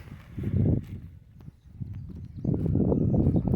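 A horse offered for sale in a village in Ukraine's Drohobych district walks on firm ground, its hooves giving a steady, fairly loud clip-clop that swells in two heavier bursts, with no talk over it.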